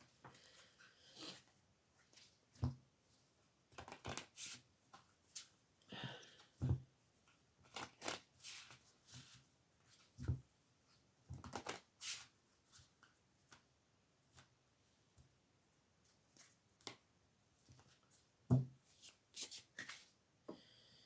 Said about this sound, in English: we're going to go with the botanical deck